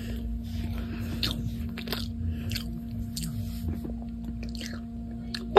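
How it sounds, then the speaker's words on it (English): Loud, close-up chewing with repeated wet crunches and squishy bites in an irregular rhythm over a faint steady hum. "you don't have to chew so loud"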